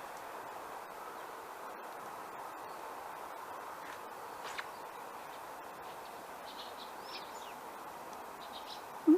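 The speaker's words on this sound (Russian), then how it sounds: "Где птички чирикают." Small birds chirp outdoors at a country dacha, with faint, scattered high tweets over a soft, steady background hiss and no talking.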